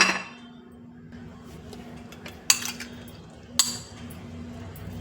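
Spoon scraping and clinking against a bowl while vegetables and sweet corn are mixed, with two sharp clinks over a low steady background hum.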